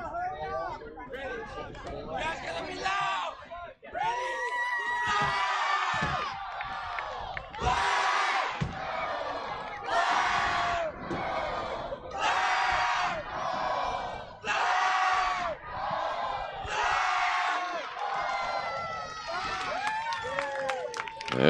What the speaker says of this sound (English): The home crowd here in Orlando.